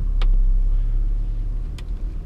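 A 2011 Land Rover Discovery 4 with a 3.0 SD V6 diesel drives along, heard from inside as a steady low road and engine rumble with two brief faint clicks.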